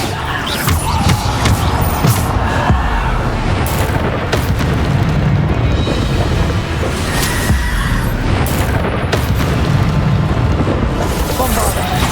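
Bombarda explosion spell in Hogwarts Legacy lands as several loud booming blasts over a dense, continuous layer of battle noise.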